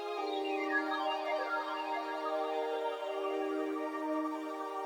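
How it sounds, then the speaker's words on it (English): A synth arpeggio sampled from Splice ripples through a delay, quick repeating notes echoing and fading over a sustained tone, with no talking. "I found this ARP sound of splice and added a delay."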